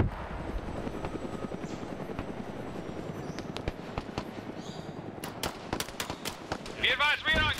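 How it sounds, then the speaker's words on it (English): Military helicopters circling a village in a video game battle: a pulsing rotor drone fills the scene, joined later by sharp bursts of gunfire-like pops, with radio voices over the end. "Choppers are going to circle around the village at this time"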